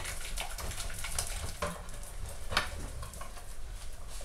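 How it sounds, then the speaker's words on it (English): A spoon or whisk beats egg yolks into a thick ham soufflé base in a bowl, giving close, steady wet stirring and scraping with occasional clinks. "continue to beat the mixture together"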